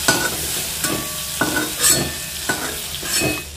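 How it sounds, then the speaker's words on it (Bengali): Prawns being stir-fried in mustard oil in a kadai (wok), a loud close sizzle broken by repeated scraping strokes of the spatula roughly every half second to a second. "চিংড়ি মাছ বেশিক্ষণ সময় ধরে আমি ভাজবো না, জাস্ট একটু 2-1 মিনিট ধরে নাড়াচাড়া করে আমি এটাকে তুলে নেব"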